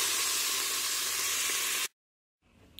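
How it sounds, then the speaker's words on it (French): Sausage and onions frying in oil in a Cookeo multicooker produce a loud, steady sizzle that cuts off abruptly, then returns faintly, with no voices. "Une fois que les oignons ont doré, on peut rajouter la saucisse."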